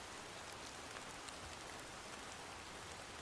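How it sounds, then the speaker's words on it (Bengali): Heavy rain falls in a steady, even downpour, soft and distant, an unbroken patter of drops on surfaces with no voices. "বৃষ্টির গতি যেন বেড়েই যাচ্ছে।"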